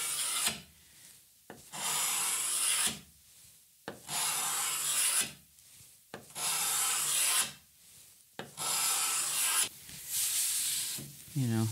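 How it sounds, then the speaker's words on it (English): Steady rasping scrapes of a hand scraper stripping an old finish off a wooden veneer drop-leaf table, five or six long strokes each lasting about two seconds, separated by short pauses, close and fairly loud with no talk. "when you're scraping, you also need to make sure you're not gouging through it"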